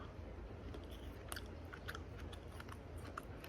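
A frozen snack gets chewed close to the mic, quiet crunchy bites repeating at an easy pace against a soft background hiss.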